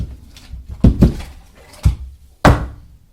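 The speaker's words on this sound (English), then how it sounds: "Then the giant took his great hammer and knocked down that wall." A giant's hammer knocks down a wall as a storytelling sound effect, with heavy, close thuds: a double knock, then a single blow, and a final loud crash.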